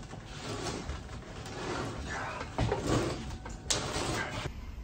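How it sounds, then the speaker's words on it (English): A heavy Goodyear leather sole stitching machine, around 100 kilos, is dragged out across the floor, giving grinding scrapes, metallic clunks and rattling knocks up close in uneven bursts. "So I'm going to pull it out so we can look at it better."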